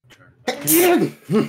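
A single short sneeze bursts out loudly and close, with a softer second gasp just after, while a voice speaks quietly beforehand.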